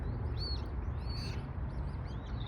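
Small chicks chirp in faint, thin high peeps, a few scattered calls over a steady low rumbling background, heard from a little distance with no talking.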